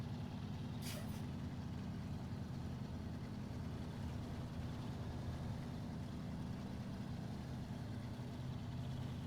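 A heavy truck in the video game SnowRunner rumbles with a low, constant engine drone throughout, with a brief hissing burst near the start.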